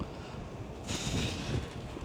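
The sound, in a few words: wind blowing outdoors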